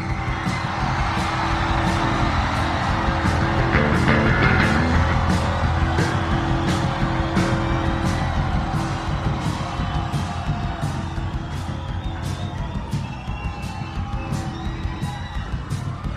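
A large concert crowd at a 1998 House of Blues show screams and cheers continuously, loud and sustained, with whoops rising above the roar and a slight swell in the middle.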